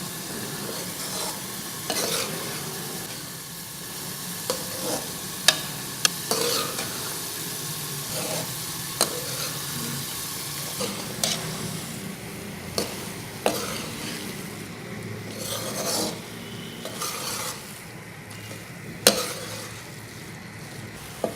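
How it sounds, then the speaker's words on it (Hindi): A spoon stirring grated carrots with milk and cream in a hot pan for gajar ka halwa, a continuous soft sizzle with repeated scraping strokes and occasional sharp clinks of the spoon against the pan, and no voices. "चम्मच मुसलसल हिलाते रहें। इसको मज़ीद 10 से 15 मिनट भूनें।"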